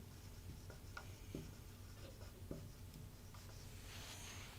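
Soft scratching of a pen writing out a geometry proof about quadrilaterals, faint, close strokes in short, uneven bursts over a steady background hiss, with no voice.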